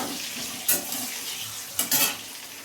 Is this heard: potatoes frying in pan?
yes